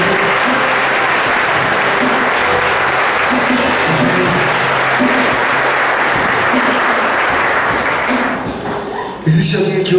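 A church congregation applauds during a worship service, loud sustained clapping from a large crowd that fades out near the end, followed by a brief voice.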